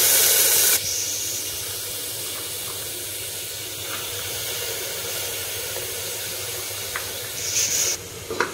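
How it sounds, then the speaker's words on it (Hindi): Chana dal fries in hot oil with a steady, close hiss throughout, louder in a brief burst at the start and swelling again near the end. "एबे बुट डाली को टिके तेल रे कोटेड करी भाजी दबा।"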